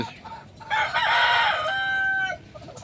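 A rooster crows nearby in one drawn-out call, with faint clucking from hens around it.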